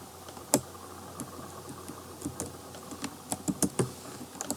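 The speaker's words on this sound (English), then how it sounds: "I literally just took out the key that wasn't working and put it back in." Computer keyboard keys clicking in scattered, irregular taps, with a few sharper strikes standing out, close and moderately loud, as a faulty key is pulled out and pushed back in during Unity 2D coding work.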